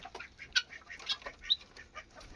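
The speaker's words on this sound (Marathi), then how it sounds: "आणि हे बघा कोंबड्या बघा आता" Free-range village chickens in a farm shed give scattered short clucks and calls, fairly quiet and irregular, with a few sharper squawks among them and no talk.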